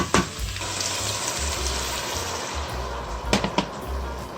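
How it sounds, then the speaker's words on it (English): Wine poured into a hot soup pot to deglaze the bottom, giving a steady close sizzle and bubbling hiss with a few sharper clatters, no voices. "I want to add in the wine. And the wine will help me deglaze the bottom of the pot"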